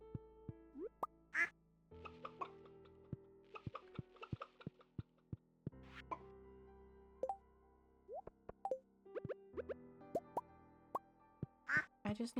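A duck in a farming video game quacks several times in short bright bursts, mixed with soft plopping game effects and background chimes, with no talking.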